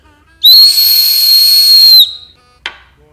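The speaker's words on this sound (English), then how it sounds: "This is from the Gerber Fire Starter Kit, and this whistle does pierce." A Gerber Fire Starter Kit whistle gives one loud, piercing blast of about a second and a half, breathy at the edges, followed by a short faint chirp.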